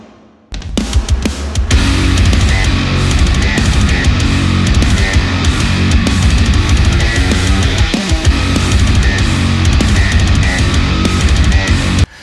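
A bass guitar plays with only a simple EQ trimming lows and highs, entering loud after a short quiet start and carrying on in a steady, dense run of notes without speech.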